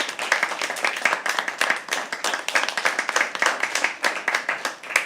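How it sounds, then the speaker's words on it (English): A crowd claps steadily in applause at a live poetry open mic, a dense rattle of many hands filling the room without a break. "can we please have a round of applause for Himangani?"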